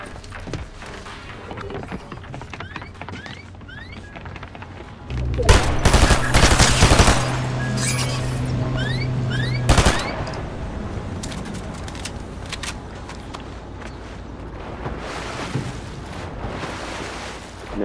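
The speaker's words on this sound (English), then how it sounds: "Yeah, they have the drum gun." A Fortnite drum gun lets loose in a long, dense, roaring burst after a steady bed of game noise, followed by a second loud blast and scattered follow-up shots.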